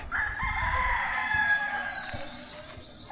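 A rooster crows once in a breeding area, a long drawn-out call close by, with some low background rumble and no talking.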